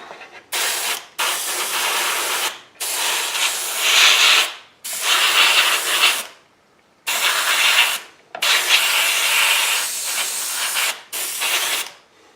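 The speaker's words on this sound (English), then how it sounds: "now I'm going to spray" Spray paint hisses from an aerosol can onto a Dinky or Corgi die-cast model car in several sustained bursts of a second or two each, separated by short pauses, close and loud with no talking.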